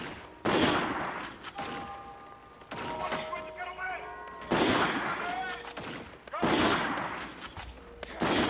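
Gunfire in Call of Duty: Infinite Warfare comes in several loud bursts separated by quieter stretches with electronic game tones and a voice talking between shots.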